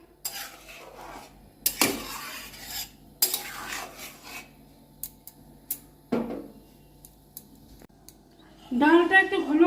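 Boiled dal being stirred in a cooking pot: intermittent metal scrapes and clinks of a spoon against the pot, close up, with softer stirring between and a voice speaking toward the end.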